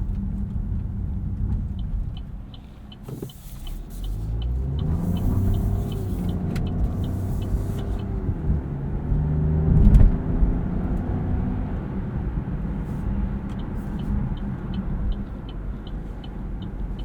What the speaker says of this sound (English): let's go for a drive and see what the Buick Envista Sport Touring is like on the road